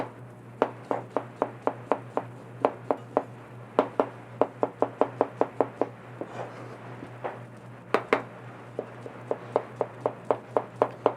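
A knife slices a sweet Maui onion very finely on a board, giving a close, crisp run of rapid, evenly spaced taps in bursts with brief pauses and no talking.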